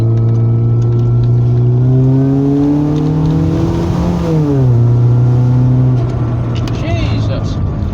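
A Mercedes-Benz Kompressor car engine fitted with an airbox mod revs up hard, its loud, close drone climbing steadily in pitch, easing briefly, then pulling again, with a voice speaking over it.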